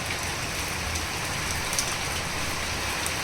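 Steady rain patters on a surface with an even hiss throughout, close and fairly loud, no voices.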